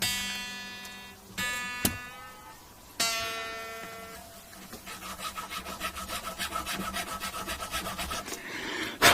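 A very fine nut file rasps back and forth in the nut slot of a 1980 Kay K30 Les Paul copy guitar, rapid rhythmic strokes in the second half, preceded by a few sharp plucked string notes and clicks, close up.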